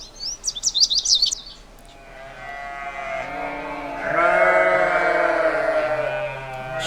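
A sheep gives a long, wavering bleat that swells louder partway through and carries on to the end, after a short burst of high bird chirps at the start.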